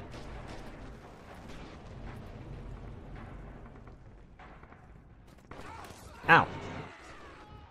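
Artillery fire in the video game Red Orchestra 2 rumbles through a noisy multiplayer battle, with one sharp, loud explosion standing out near the end over continuous background combat; a player briefly cries out.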